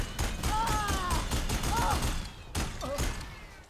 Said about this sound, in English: I just heard someone shooting me.